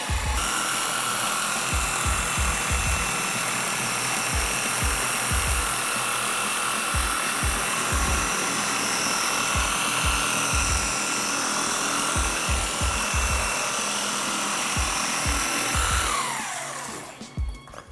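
A machine polisher buffs a car's paint, giving a steady, close electric whir with faint low thumps that runs unbroken for most of the clip before spinning down near the end. No one speaks.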